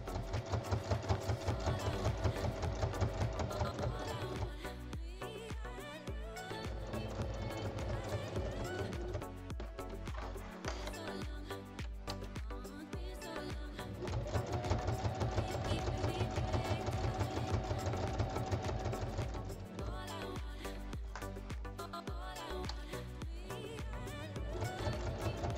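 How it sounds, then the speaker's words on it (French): A domestic sewing machine stitching fabric panels for a handmade bag, running in long steady bursts with a brief pause between runs, close and loud under continuous background music. "Je vais donc piquer en bas et deux fois sur la hauteur"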